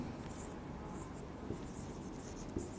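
A teacher writing on a classroom board during a biology lesson, soft continuous scratching with a couple of light taps, close and low in level, no voices.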